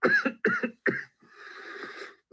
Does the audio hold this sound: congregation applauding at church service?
no